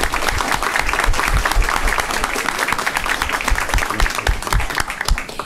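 A roomful of people applauds steadily, a dense patter of many hands clapping without pause.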